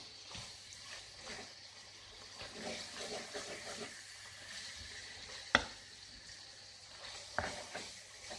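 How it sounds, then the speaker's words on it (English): Onions sizzling in a pan for spaghetti Bolognese, a steady soft frying hiss with occasional stirring scrapes and one sharp clink, close but quiet. "So now you've got your onions in as well"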